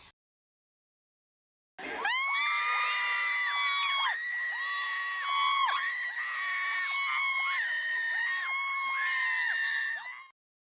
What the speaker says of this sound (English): when James' name was announced, the Thai fangirls cheer very loudly